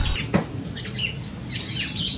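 A merbah belukar bulbul in Indonesia gives a few close, clear chirping and squawking calls in short bursts over steady background noise.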